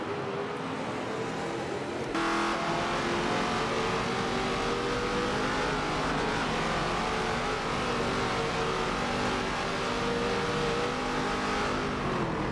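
Racing video game from a 1970s ATCC touring-car championship, several cars battling through chicane corners with a dense, continuous engine drone and shifting revs, loud and steady throughout without voices.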